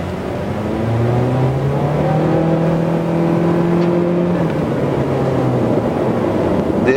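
A 2017 Honda Civic with a 1.8 liter engine accelerates hard from inside the cabin, its engine note rising steadily in pitch through the gear, loud and continuous against road and wind noise.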